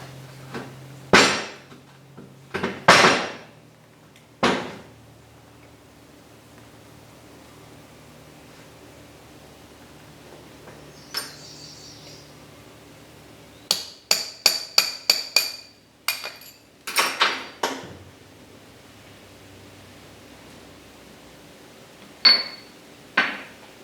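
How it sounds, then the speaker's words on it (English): Sharp metallic taps knocking the center pin out of a differential carrier, scattered and isolated at first, then a quick cluster of ringing strikes over a quiet background. "Now we can knock out our center pin."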